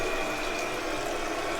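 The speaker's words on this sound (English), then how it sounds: "Now you can even hear the mains running through it," Mains-pressure water rushes steadily through a tap after a low-pressure fix, a constant broadband hiss with no pauses, close and fairly loud throughout.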